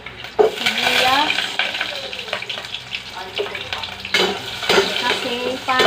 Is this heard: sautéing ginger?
yes